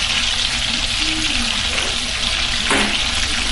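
Jollof rice cooks in a pot with a loud, continuous, close sizzling hiss that barely changes for a few seconds.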